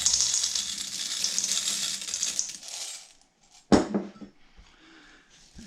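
A rattling cascade of M&M candies pours into a bowl of brown butter cookie dough for several seconds, followed by a sharp knock and a few quieter taps, with no one speaking.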